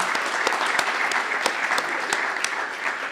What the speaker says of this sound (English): I think you all should give yourselves a round of applause for the incredible work you've done